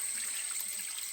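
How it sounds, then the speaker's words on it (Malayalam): A small woodland stream trickles softly and continuously nearby, a faint, even wash of running water with no voices. "ചെറിയ അരുവിയുണ്ട്. ഇവിടെ വെള്ളം കുടിക്കട്ടെ."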